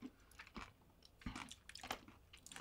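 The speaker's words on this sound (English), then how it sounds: "I'm going to try not to crunch too loud" Crunchy chewing of tortilla chips loaded with guacamole, a few distinct bites and squishy chews close to the mic, fairly quiet with no talking.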